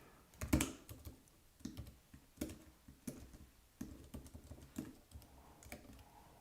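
An Apple computer keyboard on a Mac is typed on in short irregular bursts of close, crisp key clicks with brief pauses between them.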